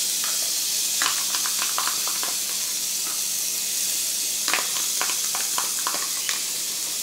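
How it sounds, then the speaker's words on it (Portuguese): Garlic frying in a pan greased with leftover bacon fat gives a steady soft sizzle, with scattered bursts of crackle and light stirring scrapes throughout; no voices. "Agora a gente vai colocar o nosso alho para fritar."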